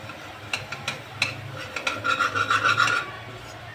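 Flour roasting in butter in a pan for white sauce, a close scraping and stirring rasp with soft sizzling, growing busier toward the end.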